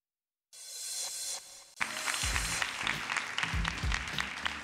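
Applause breaks out for an actor on a Brazilian talk show, a dense crowd clapping that starts after a brief silence and swells into loud, sustained applause.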